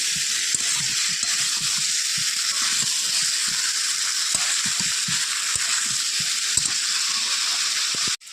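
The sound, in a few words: cauliflower and potato frying in spices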